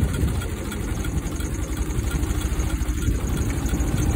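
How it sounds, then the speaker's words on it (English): A 1914 Ford Model T engine idles nearby with a loud, steady, rough low rumble and rapid rhythmic chugging throughout. "I'm ready to start off on this 1914 Model T."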